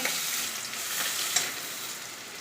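Pieces of rohu fish fry in hot oil, giving a continuous bright sizzle with a small pop now and then, fairly soft and even throughout, with no voices.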